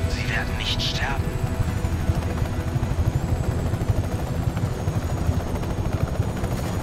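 Steady, loud helicopter rotor thrum in the video game Just Cause 3 fills the whole stretch, with a brief electronic chirpy game sound near the start.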